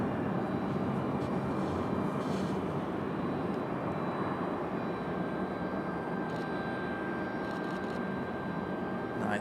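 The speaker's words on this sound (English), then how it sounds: "Nice and early turnout for our A319" An Airbus A319 airliner turning off the runway at Raleigh-Durham airport, heard as a broad, steady engine roar at moderate distance that holds evenly throughout.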